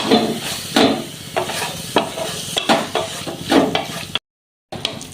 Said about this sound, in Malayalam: മസാലയുടെ പച്ചമണം മാറുന്നിടം വരെ നമുക്കൊന്ന് ഇളക്കിയെടുക്കാം